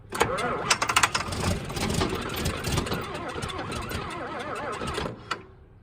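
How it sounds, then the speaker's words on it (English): An old tractor engine starts in cold weather at -1 degrees, cranking with a burst of uneven knocks and sputters before catching into a rough, rattling idle, close and loud. "This is still not the best, this tractor, but hopefully it starts today."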